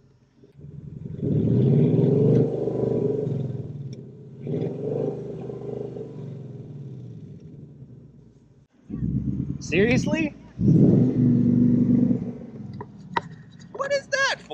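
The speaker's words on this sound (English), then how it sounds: "start it up so you guys can hear the car" A stock 2018 Ford Mustang GT manual with Performance Pack and no active exhaust starts and revs repeatedly, the engine capped near 3,000 rpm. The loud, close rumble swells and falls over most of the span, with people talking over it.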